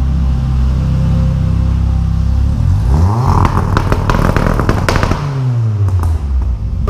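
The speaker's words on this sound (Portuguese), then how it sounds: "Vamos entrar agora pra vocês verem o cortezão do bicho aí, ó." Turbocharged VW Gol with a forged engine revs hard in a workshop, bouncing off the rev limiter cut with rapid stuttering bangs and crackles, loud and close, with no talk.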